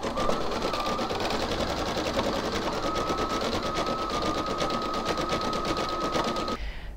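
An embroidery sewing machine stitches steadily, a continuous fast rattling needle rhythm with a faint whine that holds nearly the whole time before stopping abruptly near the end.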